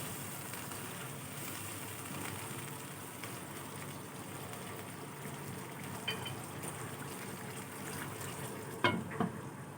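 Chicken karahi with black pepper simmering in a pan over medium heat after water is added, a steady low bubbling and gentle stirring, with a couple of brief clinks near the end.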